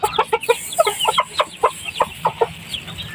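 Silkie chickens clucking close by at feeding time, a quick series of short, sharp clucks in an uneven rhythm, loud and alone.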